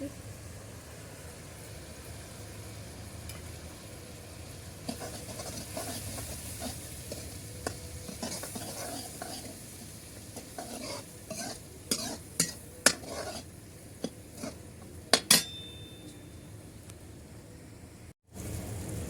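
Spice masala of turmeric, salt and red chili roasting in a pan for malai kofta, with a low steady sizzle under clinks and scrapes of a spoon stirring against the metal, a few sharper knocks near the end.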